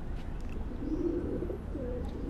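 Sialkoti pigeons coo softly in a low, rolling murmur, a gentle throaty warble rising and falling over steady background noise, with faint chirps from other birds.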